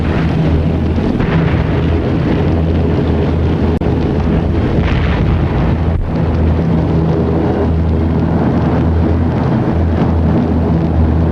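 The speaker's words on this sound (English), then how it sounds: "The bomb buries itself deep in the ground and produces a series of explosions that can wipe out a small town" Deep-penetrating Grand Slam bomb explosions in a WWII attack on Arnsberg, Germany, heard as a continuous loud, deep rumbling roar with low booming surges and a sharp jolt midway, and no voices.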